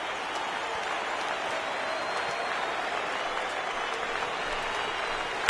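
A baseball crowd rises and applauds at an afternoon game, a steady wash of clapping and cheering that holds evenly throughout, with a faint voice underneath.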